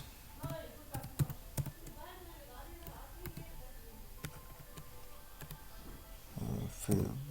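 Computer keyboard keys tapped during Python coding, scattered sharp clicks with uneven pauses, close and fairly quiet, ending in a louder cluster of presses as enter is hit.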